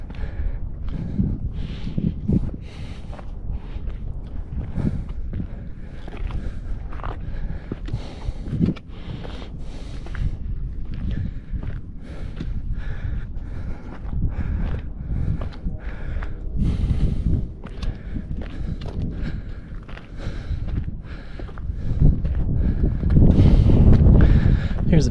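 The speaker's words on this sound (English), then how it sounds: "That wind feels really good." Wind buffets the microphone on an exposed mountain ridge walk, a steady low rumbling gust that runs throughout and swells louder near the end, with faint footstep-like rustles underneath.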